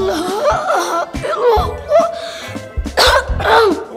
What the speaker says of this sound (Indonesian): Kakek, batuk terus.